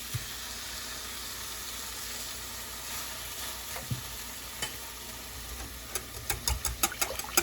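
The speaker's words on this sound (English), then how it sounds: "I'm just going to whisk that together." Cream of golden mushroom soup whisked in a pan, with a soft steady sizzle first and then a run of quick, sharp whisk taps against the pan building near the end.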